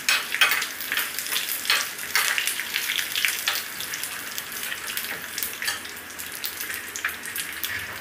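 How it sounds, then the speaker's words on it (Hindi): Chana dal and peanuts roast in hot oil while being stirred, a close crackling sizzle broken by repeated scraping strokes and bursts of spitting, fairly quiet and steady with no speech. "इसे चलाते हुए थोड़ी देर भुनेंगे"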